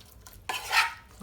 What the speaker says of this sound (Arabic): وكنخلطو مزيان مع الزبيب